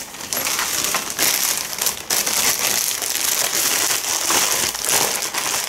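Continuous crinkling and rustling of plastic bags, close and fairly loud, with irregular crackles and brief pauses, no talking.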